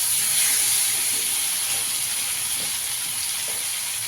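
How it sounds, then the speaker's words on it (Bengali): Boiled taro root frying in a pan, a steady loud hiss and sizzle with no break. "আমি গাঁটিটা আগে থেকে সেদ্ধ করে রেখেছি, একটু গাঁটিটাকে দিয়ে একটু ভেজে নেবো।"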